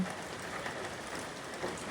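Rain falls steadily as heard from a home terrace in Mauritius, an even, dense hiss of drops on surfaces nearby, with no talking.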